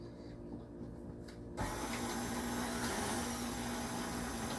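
An electric mixer starts abruptly and runs with a steady, close whirring hum while beating muffin batter containing vanilla, after a quiet moment of faint handling noise.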